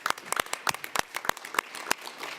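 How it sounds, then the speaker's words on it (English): Scattered applause from a small audience closing an afternoon global health roundtable: a dozen or so distinct, irregular hand claps, fairly close and crisp, with no voices over them. "so you deserve an applause"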